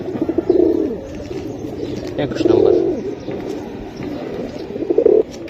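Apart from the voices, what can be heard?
female pigeons cooing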